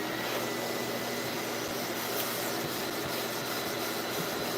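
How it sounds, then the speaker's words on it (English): Vacuum cleaner running steadily while being unclogged and cleaned out, a loud, constant broadband roar with a faint motor hum that holds unchanged throughout, with no voices. "We're gonna clean this out. We're gonna vacuum this."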